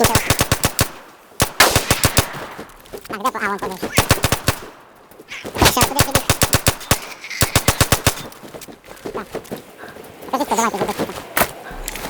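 Automatic gunfire in a PvE survival shooter, repeated rapid bursts of close, loud shots in rhythmic volleys with brief gaps, and players talking between them.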